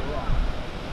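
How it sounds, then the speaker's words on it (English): Large ocean waves breaking at a Hawaii shore make a loud, steady rumbling roar mixed with wind noise across the microphone, with people talking nearby. "What do you guys think about the huge waves?"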